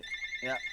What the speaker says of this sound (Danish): det var en telefon, der ringer nu